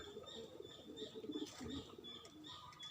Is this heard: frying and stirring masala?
no